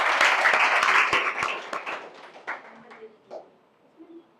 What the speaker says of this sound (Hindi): इनके लिए तालियां बजाओ।